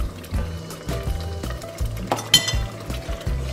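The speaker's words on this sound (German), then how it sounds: "Das wird jetzt gut umgerührt." A chicken dish with salt and garam masala is stirred in a pot, giving repeated soft clinks and scrapes of a utensil against the pot at an uneven rhythm, fairly close and with no talk.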